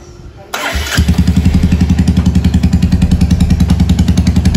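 A Royal Enfield Meteor 350 fitted with a Mini Punjab silencer starts up and settles into a loud, close idle with a steady, pulsing single-cylinder thump.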